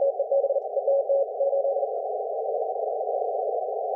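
A steady, close Morse code CW sidetone from a ham radio contest station, beeping in quick dots and dashes that then hold as a continuous tone.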